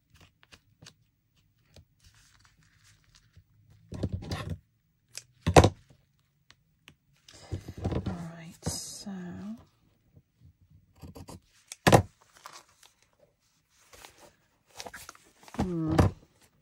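Fabric is torn by hand for a junk journal cover, giving several short, sharp ripping bursts separated by quiet pauses, close and crisp, with occasional handling noise between tears.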